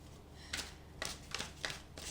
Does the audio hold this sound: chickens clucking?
no